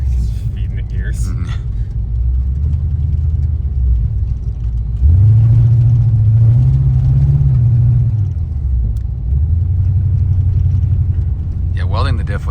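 Coyote V8 swapped Foxbody Mustang driving, a deep steady engine rumble from inside the car that swells as it accelerates midway, with people talking over it.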